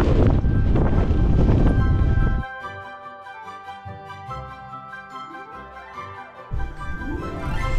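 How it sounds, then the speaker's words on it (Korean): Strong wind gusting across a Balkan mountain road on a bicycle trip buffets the microphone in a loud, rough roar for the first two seconds, drops away to a quieter, steady tonal stretch, then surges back near the end. "와 바람 장난 아니게 분다"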